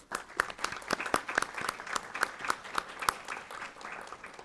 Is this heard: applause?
yes